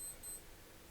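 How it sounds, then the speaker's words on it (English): A Casio G-Shock watch alarm sounding in a quiet room, a short burst of faint, high-pitched electronic beeps. "that's my alarm on my G-Shock going off on one of them"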